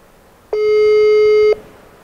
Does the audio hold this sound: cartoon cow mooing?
no